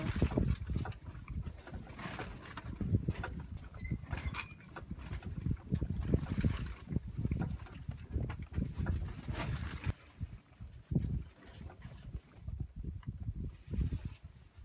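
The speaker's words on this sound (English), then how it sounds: "Kind of windy today" Gusty wind buffets the microphone with a low, rumbling roar that rises and falls throughout, loud and close.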